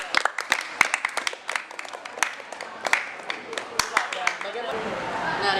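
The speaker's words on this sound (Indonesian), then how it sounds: "Berikan aplaus untuk." Audience applause in a school hall, a crowd clapping steadily with many sharp overlapping claps for several seconds before it thins into softer room noise.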